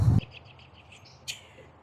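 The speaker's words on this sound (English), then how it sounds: "Just thought I'd give you a little shot of the river and the sound of birds" Soft bird chirps repeat in a quiet outdoor setting by a river, with a brief louder thump at the start and a short bright burst midway.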